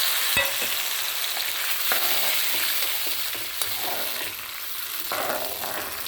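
Tamarind water with curry leaves boiling in a pan for pulikaichal, giving a steady close sizzling bubble with a few light clinks of stirring throughout.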